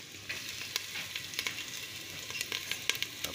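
Garlic frying in hot vegetable oil gives a steady, close sizzle with scattered sharp pops and spatters throughout, and nobody speaks.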